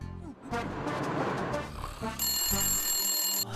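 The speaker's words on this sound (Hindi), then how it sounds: "पतलू, कंपनी को फोन लगाओ" A telephone rings with a bright, steady electronic tone over background music and chatter, continuing for about a second before cutting off.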